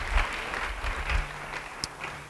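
A church congregation claps during a sermon, a faint, fairly distant patter of applause that rises and falls for a couple of seconds, with a single sharp knock near the end.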